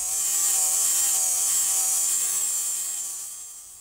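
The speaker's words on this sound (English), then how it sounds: "it's time to dress up our cuts with a grinding wheel" A grinding wheel dresses cut edges of rusted sheet metal on a 1966 Chevy truck rocker panel, giving a steady, loud high-pitched whine that holds for a few seconds and then tapers off.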